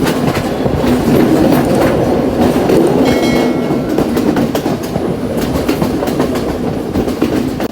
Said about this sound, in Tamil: ட்ரெயின் பார்த்தீங்கன்னா அதோடய ஸ்பீடில் எந்த மாற்றமுமே இல்லை.